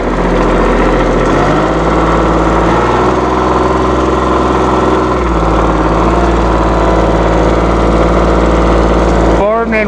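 A 1998 New Holland Boomer 1925 compact tractor with a 34 hp engine runs loud and close, its steady drone stepping up in pitch as it revs, with a brief mechanical clunk near the end.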